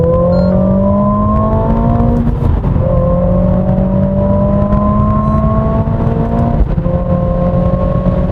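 A 2021 Mercedes-AMG CLA45 S 4Matic+ engine revs and climbs through manually shifted gears in a tunnel, its rising whine echoing and booming, with brief dips at shifts.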